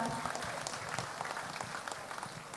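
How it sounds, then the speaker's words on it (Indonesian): Crowd at a provincial sports games opening ceremony in North Sulawesi applauds the governor, a fairly distant, steady wash of many hands clapping in a large open venue. "kasih tepuk tangan untuk Pak Gubernur kita"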